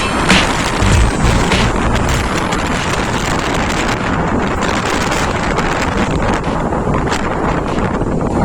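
Strong wind in Upper Mustang, Nepal, batters the microphone with a loud, continuous roaring rush that barely eases throughout, with no speech.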